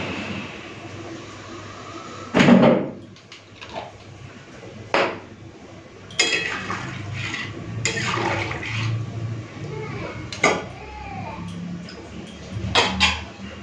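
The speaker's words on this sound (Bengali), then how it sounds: "মিশিয়ে টিশিয়ে নিয়েছি, ঢাকা দিয়ে দিলাম।" Rohu fish curry with cauliflower is stirred in a pot, then a lid goes on: a sharp metal clank near the start, then scattered scrapes and clinks over a steady low kitchen hiss.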